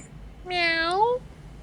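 A single clear cat meow, rising then falling, lasts under a second close to the microphone against a quiet background.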